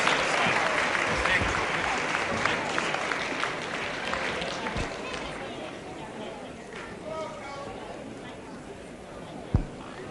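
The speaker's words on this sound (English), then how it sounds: "give these boys a hand" A wrestling audience applauds the wrestlers before a heavyweight contest, a full burst of clapping that gradually thins into crowd chatter, with a sharp thump near the end.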